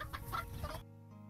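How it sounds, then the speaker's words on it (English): Chickens cluck briefly in a video game with horses and animal families. A few short, close clucks sound over a faint background, then the clucking cuts to near silence. "Here are the chickens."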